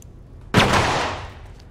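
A nitroglycerin-laced bullet explodes inside a body during an autopsy: a single sharp, loud blast after a short quiet moment, followed by a rumbling decay lasting about a second.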